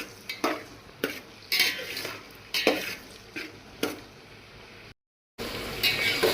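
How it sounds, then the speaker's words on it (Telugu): Brinjals (eggplant) fry and get stirred in a pan for temple-style vaangi baath, with a soft sizzle under repeated spatula scrapes and pan knocks, paused by a brief silence. "ఇప్పుడు ఈ వంకాయలను బాగా వేగించుకోవాలి మగ్గించుకోవాలి"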